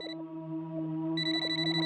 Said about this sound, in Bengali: ভাইয়ের ফোন স্যার